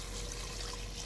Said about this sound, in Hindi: अब इसके अंदर तकरीबन 3 ग्लास पानी ऐड कर लेंगे।